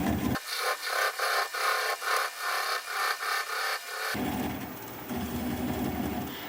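Wood spinning on a lathe at about 350 RPM as a tool trims a lidded piece, giving a rhythmic rubbing scrape in steady pulses for four seconds before the cutting stops and only the machine hum remains.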